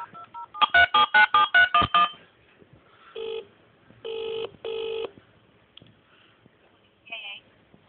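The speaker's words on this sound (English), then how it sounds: "There we go, redial." A rapid string of about eight touch-tone telephone redialing beeps, followed by a few spaced ringback tones, fairly faint with background hiss.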